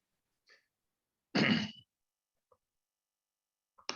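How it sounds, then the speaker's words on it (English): A single short, gruff throat clearing from an audience member at a beekeeping panel discussion on varroa mites, close and fairly loud in an otherwise quiet room, with a few faint small sounds around it. "are you just clearing your throat?"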